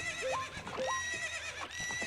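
A horse in Zelda: Ocarina of Time neighs twice in quick succession, loud and near, followed by a brief whinny and soft hoof-like clops.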